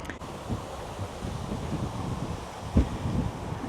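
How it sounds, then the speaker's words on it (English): Strong wind beside a canal with waves on the water rushes and buffets against the microphone in low, rumbling gusts, with a brief heavier thump partway through. "Gives you a rough idea of how windy it is."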